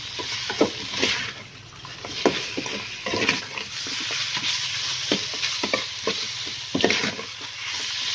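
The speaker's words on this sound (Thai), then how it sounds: "เอาซี่โครงหมูลงไปคั่วไปพัดไปก่อนนะ" Pork ribs stir-fry in a pan, giving a continuous close sizzle punctuated by repeated scraping strokes of a spatula, with no talking.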